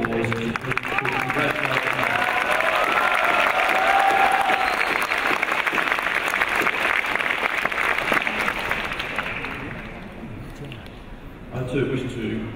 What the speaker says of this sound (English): Let's give an extra round of applause to Trần Quỳ Hùng